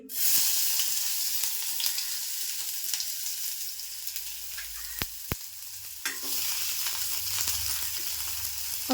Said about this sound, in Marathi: तेल टाकलं आहे आता कांदा टाकते फोडणीला